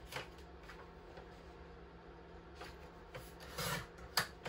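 Scissors snip and rasp through paper while trimming a junk journal page, faint close scraping with a few brief cuts near the end, no talk.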